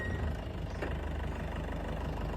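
A jeep engine runs steadily at low revs during a driving lesson, with a continuous low rumble and faint knocking and no speech.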